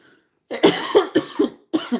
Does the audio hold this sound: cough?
yes